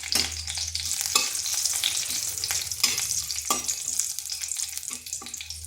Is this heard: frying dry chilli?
yes